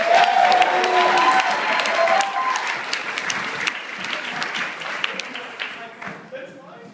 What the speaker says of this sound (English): Let's all give a round of applause to Wes.